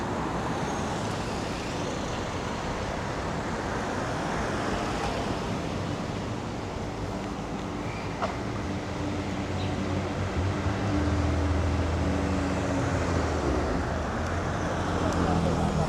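Sunday evening traffic in St. George, Staten Island, a steady roadway rumble of cars, buses and trucks passing, continuous and moderately loud, with occasional voices under the drone.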